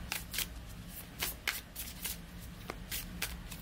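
A deck of oracle cards is shuffled close by in quick riffling bursts, roughly ten soft rustling flutters in a loose, uneven rhythm, quiet and without talk.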